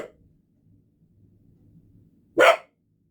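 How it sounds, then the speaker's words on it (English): A pet dog lets out a single loud, sharp bark close by after a quiet stretch, with a trace of another brief sound at the very start. "There's my dog."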